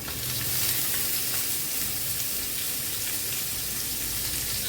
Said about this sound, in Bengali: সামান্য একটু রসুন আর একটু পেঁয়াজ দিয়ে দিচ্ছি, লাল লাল করে ভাজি দিয়ে দিচ্ছি